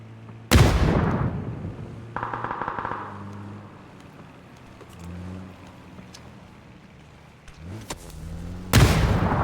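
Gunfire in the Super Mario Party Jamboree video game: a few loud, booming shots spaced several seconds apart, with softer game effects between them and no talking.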